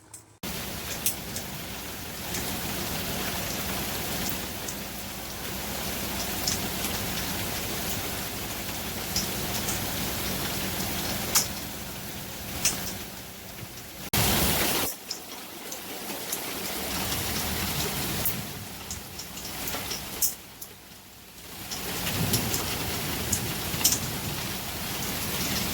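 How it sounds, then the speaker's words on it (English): Hail pelts down during a storm after a round of pea-size stones, a dense, steady roar of pattering impacts on hard surfaces that swells and eases over the long stretch, with no talking. "Well, the hail came back."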